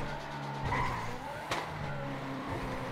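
Tires squeal as a car skids in a driving video game, with a sharp burst midway over continuous engine and road noise.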